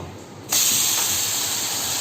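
Bread slice placed on a ghee-coated tawa bursts into a loud, steady hiss after a brief quiet moment, the frying sizzle holding close and continuous to the end.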